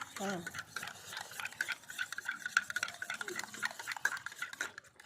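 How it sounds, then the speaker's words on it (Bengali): A spoon stirs turmeric powder into water, giving soft, quick clinking and swishing against the container, with a person talking over it. "খুব ভালোভাবে হলুদ জলটা গুলে নিলাম।"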